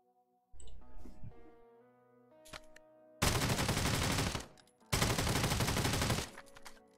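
Two long bursts of rapid automatic fire from an L2A2 rifle in the Lost Light Mobile game, each lasting over a second, loud and close, preceded by weapon handling clicks and a metallic clack.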